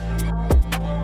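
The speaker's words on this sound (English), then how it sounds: "In this section, I've played an 808 on the off note, so it sounds offbeat" An 808 bass in a drill beat lands on the off note, a deep sustained boom with a short pitch drop midway, under a pattern of crisp hi-hat taps, loud and close throughout.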